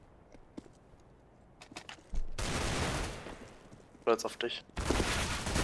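Loud Desert Eagle pistol fire in Counter-Strike: Global Offensive on the Nuke map, heavy shots coming in dense bursts with a pause between them, while someone talks in German over the quieter parts.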